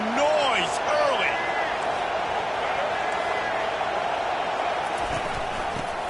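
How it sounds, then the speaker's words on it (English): A large stadium crowd at a college football game between the Sooners and Michigan keeps up a steady, dense roar, with a few brief whistles or shouts near the start and no clear speech. "This crowd bringing the energy and noise early."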